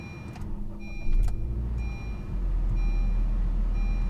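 Honda Jazz GK5 engine starting up and pulling away, a low engine hum that rises and settles into a steady drone alongside faint electronic beeps, close and moderately quiet.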